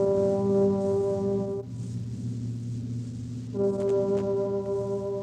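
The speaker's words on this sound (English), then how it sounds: "The distant call of foghorns by the Golden Gate." Deep, steady foghorn tones sound from a distance by the Golden Gate in San Francisco, one long blast fading out before another begins.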